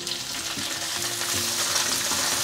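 Bean buns fry in oil in a pan with their openings facing down, giving a close, even hiss of sizzling that holds steady for the whole stretch, with soft tonal music faintly beneath.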